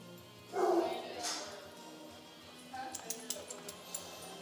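A dog gives one loud bark up close, followed by quieter yips and tapping sounds nearby.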